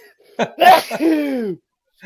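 A single sharp sneeze, loud and close, with a quick burst followed by a drawn-out voiced release.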